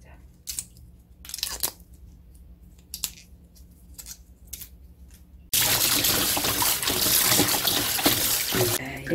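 Water splashes loudly in a sink as trimmed fatsia shoots are rinsed twice, a sustained broadband rush after sparse earlier clicks and snips.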